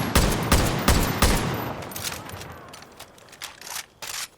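A Dragunov rifle in Far Cry 5 fires off a full magazine in a loud, rapid volley of closely spaced shots that slows into a few scattered final rounds, heard alone with no talk.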